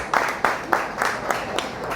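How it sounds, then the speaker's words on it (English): Sparse applause at a scholarship fundraiser brunch comes as a handful of separate claps, fairly close and moderately loud, with no talk over them. "Give him another round of applause."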